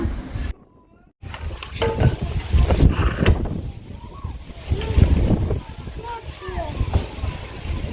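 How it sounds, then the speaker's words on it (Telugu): Gusty wind buffets the microphone in loud, uneven surges, with a short quiet gap early on and a voice talking over it. "గాలి చూడండి, విపరీతమైన గాలి వేస్తుంది"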